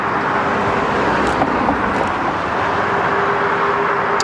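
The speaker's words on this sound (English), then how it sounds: "We got cars trailing." Cars sweep past on a road beneath a bridge, a dense continuous roar of tyres and engines with a faint steady hum running through it, no talk.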